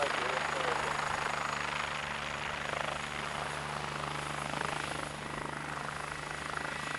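A BK-117C-2 helicopter circles overhead during rescue transport training, its rotor and engine drone continuous and fairly distant, with radio-style voices talking over it.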